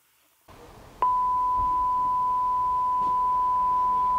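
A metal detector sounds a steady, clear tone over a buried metal object on a wartime field. It starts abruptly after a brief quiet moment and holds loud and unbroken to the end.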